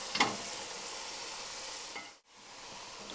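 Meat for shepherd's pie sizzles steadily as it browns in a hot pot, with a brief scrape as pieces are turned over and a short dip before the frying hiss picks back up.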